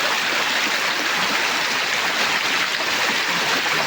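A rushing stream runs after the water rose, a dense and steady wash of water that fills the whole clip at close range with no break.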